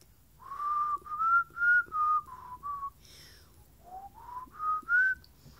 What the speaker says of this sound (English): All right, here's my actual whistle.